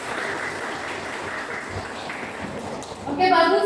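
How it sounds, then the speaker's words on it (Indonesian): Applause from a classroom audience after a presentation, a steady patter of clapping that swells louder near the end, with talk over the start. "kasih tepuk tangannya"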